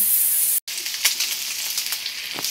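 Garlic and onion sauté in a pan with a steady, fairly loud sizzle, broken by a brief silence and a few crackling spits.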